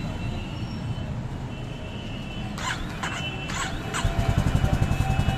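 A Honda Highness CB350 motorcycle idles with a steady low exhaust thrum, then swells into a louder, pulsing burble toward the end, heard close and alone.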